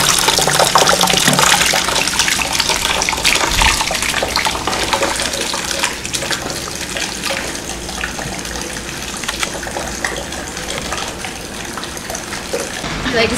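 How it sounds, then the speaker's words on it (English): Belgian ale wort pouring through a strainer into a fermenter, a continuous loud gushing splash of liquid that eases slightly partway through, with people talking faintly in the background. "we're going to place a strainer to make our wort splash on the way out"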